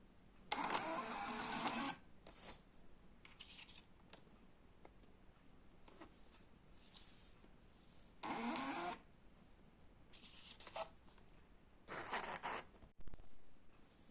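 A mini Bluetooth printer printing, heard as several short bursts of mechanical whirring and feeding, each about half a second to a second long, separated by quiet gaps.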